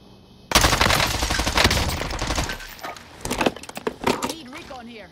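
Rapid automatic gunfire bursts in a battle royale video game, loud and close, followed by scattered single shots and clatter, with voices talking over the action.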